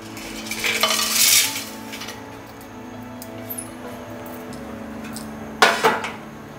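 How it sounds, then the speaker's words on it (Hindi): Dry spices roast in a pan and a utensil clinks and scrapes against the metal in two brief bursts, with a quiet low background between them. "ये हमारे मसाले भुनने लगे हैं"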